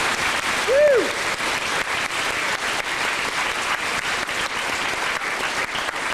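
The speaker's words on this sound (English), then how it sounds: "So everybody, please give her a warm round of applause." An audience at a wish fundraiser event in Moose Jaw, Saskatchewan gives a warm, steady round of applause, dense and even throughout, with a brief whistle rising over the clapping early on.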